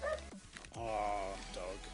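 A dog whimpers and gives short high yips, close and fairly clear, with a person talking around and between the sounds.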